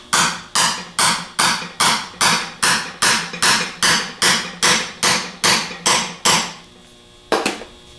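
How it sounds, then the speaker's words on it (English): Steady series of about fourteen sharp metallic taps drives a bushing into a 42MT starter with a tool, evenly spaced and close, followed by a pause and one final tap. "Then we're going to set the bushing down in there and tap it down"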